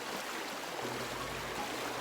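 Flowing water of a shallow stream near Sifaran Falls rushes steadily, a continuous close hiss with a faint low rumble and no voices.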